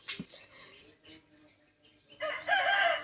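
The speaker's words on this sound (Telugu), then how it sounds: "ఆ పుంజు మనదేనండి" A rooster crows loudly and close by near the end, after a quieter stretch of faint rustling and distant murmurs.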